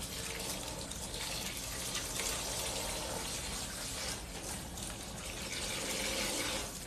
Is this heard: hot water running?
yes